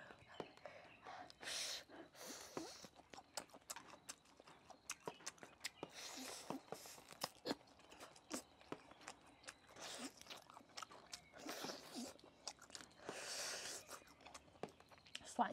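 Someone chews garlic-flavored fried pork ribs up close, with crisp crunchy bites and repeated wet chewing in an irregular rhythm, broken by quiet breaths and soft murmurs.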